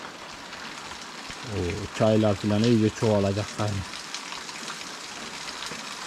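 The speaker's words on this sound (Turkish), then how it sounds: "Yağmur sıkıştırdı baksanıza. Oluktan akıyor baya." Heavy spring rain pours down in a village and water streams from a gutter, a steady wash of hiss throughout while someone speaks briefly in the middle.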